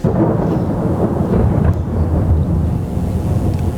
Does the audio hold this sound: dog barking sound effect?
no